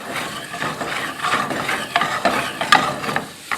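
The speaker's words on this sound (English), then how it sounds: "I'm going to deglaze the pan with some white wine." White wine hits a hot pan to deglaze it, giving a close sizzle with repeated scraping and stirring clicks from a utensil against the pan.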